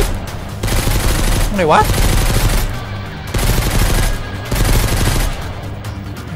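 Bursts of enemy gunfire crackle in the survival shooter Mist Survival, several sustained volleys separated by brief pauses, with someone talking excitedly over the shots.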